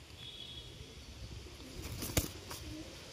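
A large domestic pigeon shown standing gives soft, low coos under faint background hiss, with a sharp brief knock near the end.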